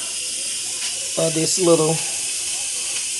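Steam hisses steadily out of an Instant Pot while cooking yellow rice and chicken, a constant broadband rush running under a brief spoken phrase from a nearby voice.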